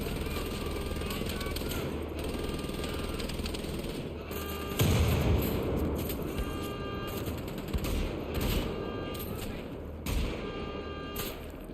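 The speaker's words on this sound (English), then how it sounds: "I was like, all right, we're just shooting." Gunfire in the video game W, dense bursts of rapid shots and booming blasts that run continuously with someone speaking over them.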